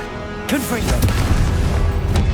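A Confringo blasting spell bursts in Hogwarts Legacy: a sudden loud boom at about half a second rolls into a sustained rumbling roar, with a short sweeping whistle at the onset and a second crack near the end.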